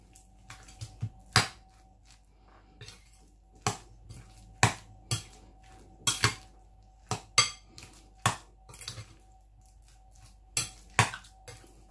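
Spoon clinking and scraping against a pot while soumbala, okra and rice are stirred together, irregular close knocks and scrapes with no talk.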